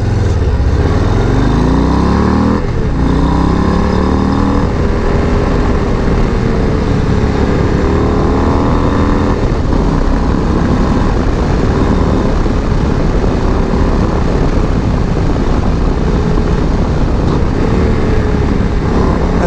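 A 2022 Harley-Davidson Low Rider ST ridden hard through corners, its engine revs climbing and falling in repeated sweeps through the gears, loud and close with a steady wind roar and no talking.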